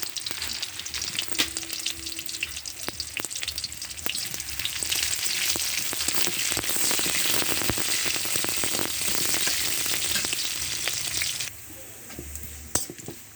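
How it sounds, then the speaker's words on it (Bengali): Panch phoron, a chopped onion and three dried red chillies fry in hot oil, giving a dense, continuous sizzle with occasional stirring clatter. The sizzle eases near the end, leaving quieter crackling. "পাঁচফোড়ন, একটা পেঁয়াজ আর তিনটা শুকনো মরিচ এই তেলে ভেজে নিলাম।"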